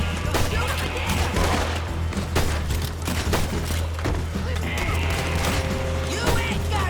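A gunfight in Red Dead Redemption 2, with rapid overlapping shots cracking out over a constant low rumble, loud and busy throughout, mixed with shouted voices.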